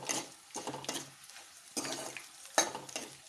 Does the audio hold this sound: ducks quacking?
no